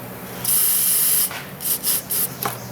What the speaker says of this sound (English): Get a little bit more spray up on it.